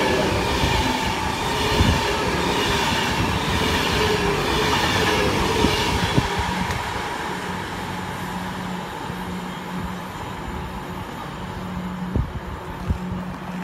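Southern class 377 electric train at Milton Keynes Central station, a close steady rumble with wheel clatter and squeal, and a few sharp knocks from the rails as it runs past.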